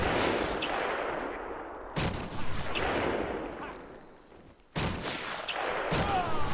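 Sniper gunfire in the video game Batman: Arkham Asylum: three sharp, loud shots spaced a couple of seconds apart, each cracking sharply and then trailing off in a long decaying echo.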